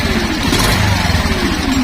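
A Suzuki Skydrive scooter's engine idles steadily and close by, a continuous low putter with a faint whine running through it, holding an even pace from start to finish with no voices.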